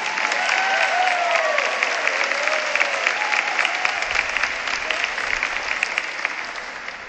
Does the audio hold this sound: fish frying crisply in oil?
no